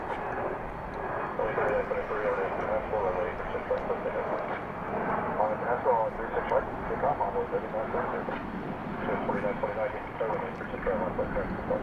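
A fixed-wing aircraft at DFW Airport, with a steady, loud broadband roar of engine noise sustained throughout and no break.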